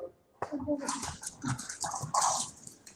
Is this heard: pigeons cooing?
no